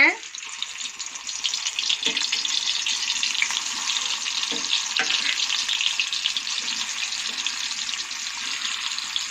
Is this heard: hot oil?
yes